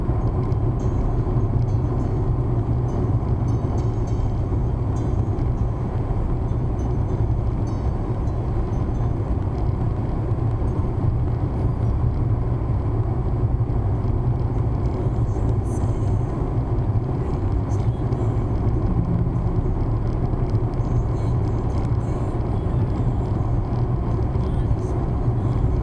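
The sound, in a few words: car cruising at 120 km/h in fifth gear on highway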